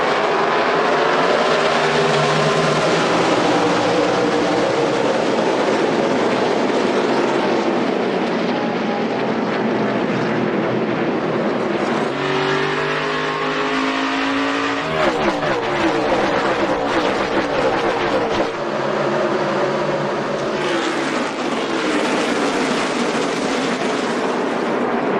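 NASCAR stock cars roar around the track during the 2014 Sylvania 300, a continuous loud engine drone with pitch sweeps as the field passes, with crowd and race noise blended in throughout.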